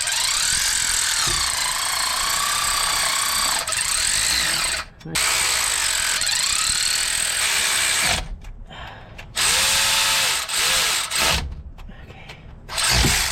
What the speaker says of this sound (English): Kind of just snug these on real quick with my DeWalt.